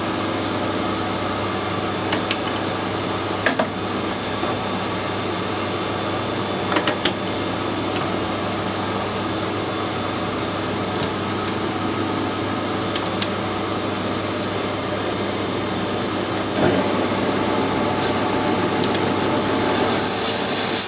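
A lathe cuts a thread on a small brass part for a vintage engine oiler's lubricator, giving a steady close mechanical drone and hum with a few brief clicks and scrapes, and no talk.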